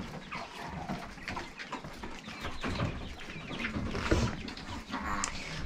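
A chihuahua puppy scuffles with and chases a chick, giving busy, close yips, scrabbling and small peeping sounds in a continuous jumble with no talk.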